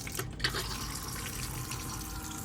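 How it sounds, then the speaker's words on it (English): A cassette toilet in an Autosleeper Inca camper van flushes, giving a steady close rush of water that runs throughout without pause. "So that flushes the toilet like that."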